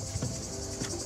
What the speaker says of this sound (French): Et les cigales.